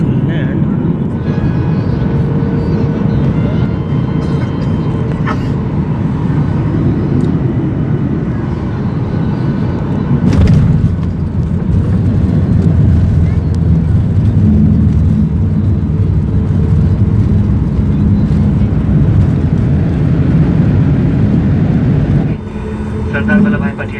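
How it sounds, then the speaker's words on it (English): Boeing 737 MAX airliner on final approach to Ahmedabad, heard from inside the cabin: a steady, loud low engine and airflow roar fills the whole span, with a brief clunk midway and the noise easing near the end. "right now I guess the plane is about to land"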